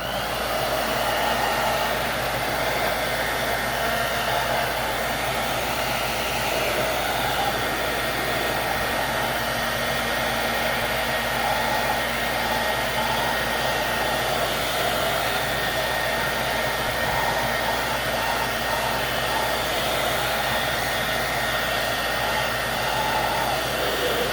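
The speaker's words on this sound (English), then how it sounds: "So I'm going to hit this again with the blow dryer" A blow dryer runs continuously for the whole stretch, a steady, close, whooshing whir with no pauses or talking.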